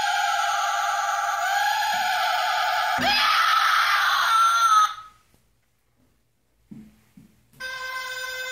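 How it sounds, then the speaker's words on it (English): Animated hanging doctor Halloween prop lets out loud, shrill, wavering screams lasting about five seconds, then falls silent apart from faint clicks before the sound starts again near the end. "Alright, so he has some screams."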